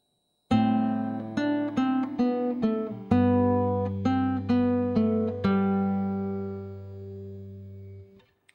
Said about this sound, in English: If we put that together, here are measures 5 and 6.